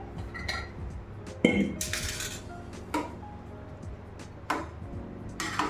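A spoon stirs food in a metal cooking pot, giving intermittent close clinks and scrapes, and a lid closes on it with a sharper clank; no one speaks.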